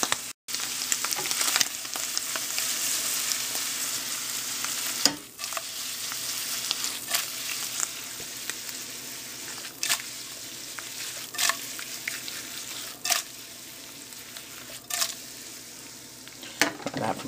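Morel mushrooms sautéing in a pan, a continuous close hiss of frying broken every second or two by sharp clicks and scrapes of stirring.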